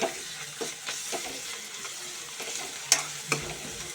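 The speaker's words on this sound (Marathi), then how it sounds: "थोडा फ्राय करणार आता मी याच्यामध्ये अद्रक लसूण आणि मिरची ह्याचं एक केलेली ते मी टाकते त्याच्यामध्ये थोडं मिक्स करते" Ginger, garlic and green chili paste fries in oil for a restaurant-style chicken pulao, a soft steady sizzle broken by scraping stirs and a couple of sharp clinks of the spoon against the pan.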